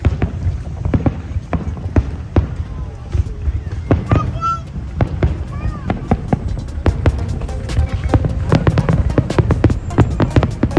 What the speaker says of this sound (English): It's about to special Eid fireworks, which are only gonna be for 5 minutes